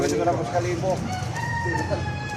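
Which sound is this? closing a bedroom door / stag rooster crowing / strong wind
stag rooster crowing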